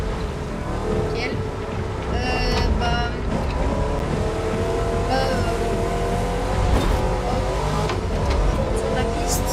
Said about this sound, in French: je suis avec ma petite Hooligan. Elle va hyper vite